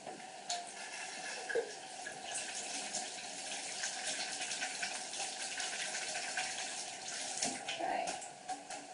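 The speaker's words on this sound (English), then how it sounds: "So you'll hear me doing that now. I'm just going to wash my hands." Hands being washed under a running tap at a sink, a steady low stream of water splashing throughout with small shifts as the hands move, fairly quiet and close.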